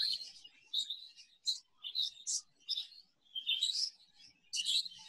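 Pet budgie chirping and warbling in a steady series of bright, close tweets and short trills, with no talking.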